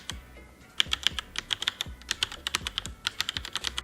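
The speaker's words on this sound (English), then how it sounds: "So as you can see here, some of them are super loud, extra clicky, and some of them are more quiet." Mechanical keyboard switches clicking under typing, a run of sharp, crisp clacks in an uneven rhythm, some louder and clickier than others, close and alone without voices.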